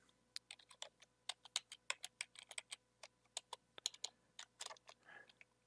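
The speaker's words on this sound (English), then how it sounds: "I'm going to type in my password." Someone types a password on a computer keyboard: a quick, uneven run of crisp, close key clicks with short pauses between bursts, heard alone over a quiet background.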